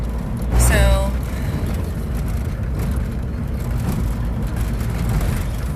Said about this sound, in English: There's cars slamming on their brakes ahead of us and then shooting forward.